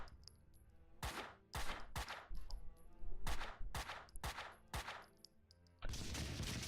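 Gunfire in the video game Max Payne 2: a rapid series of about eight loud, sharp shots in quick succession, each with a short decaying tail, ending in a sustained burst of noise.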